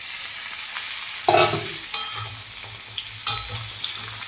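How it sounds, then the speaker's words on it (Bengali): Vegetables, including potatoes and soybean chunks, sizzle in a pan as they are stirred, a steady close frying hiss broken by several scraping stir strokes and a sharp burst where the spatula pushes through. "তো সবজিগুলো দিয়ে দিচ্ছি প্রথমে, এগুলো এখন ঢেলে নিয়ে হবে,"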